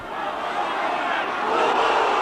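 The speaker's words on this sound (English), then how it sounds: "The crowd beneath me over this side of the pitch didn't approve" Rugby league crowd at a Castleford versus Warrington match roaring in disapproval, a dense, sustained wall of voices from a large terrace that swells slightly toward the end.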